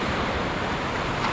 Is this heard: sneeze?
no